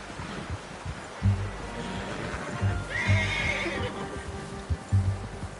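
Horse in Red Dead Redemption 2 giving a clear whinny midway, amid low rhythmic hoof thuds and outdoor game ambience, fairly close.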